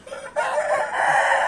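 A young rooster lets out a single loud, close crow that starts after a brief pause and stretches on to the end, with no voices around.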